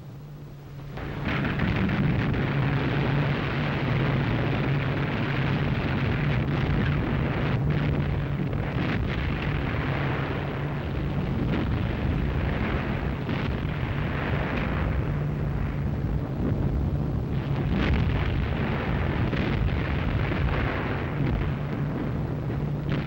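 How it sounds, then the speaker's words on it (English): Gunfire from the battleship Tirpitz in a Norwegian fjord mixes with exploding 12,000-pound bombs, a dense, continuous rumble of blasts and booms, loud and sustained, with heavy wind-like roar throughout. "the Tirpitz opened up with every gun she had."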